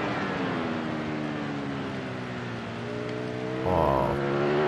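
Ducati Panigale V4 superbike engine in the Ride 4 racing game, accelerating hard with rising harmonic whine climbing steadily, then a brief gear change and renewed pull, loud and continuous with no talk.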